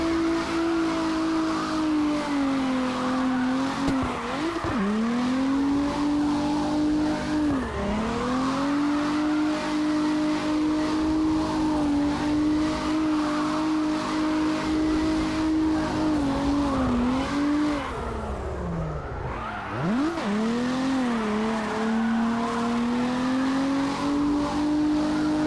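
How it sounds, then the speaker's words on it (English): A drifting car in CarX Drift Racing online holds a long, steady tire squeal over a droning engine, with the pitch dipping and recovering briefly at transitions, loud and close throughout with no talk. "I love smoking all tires, bro. That means that you got some mad frickin' angle."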